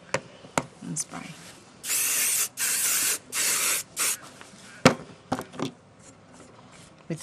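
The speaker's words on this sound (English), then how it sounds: "And spray." Hairspray hisses from an aerosol can onto a Border Collie's feet in four short bursts of about half a second each, close and fairly loud, with soft brushing and handling noises between them.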